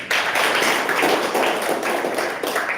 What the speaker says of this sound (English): So we have to clap also.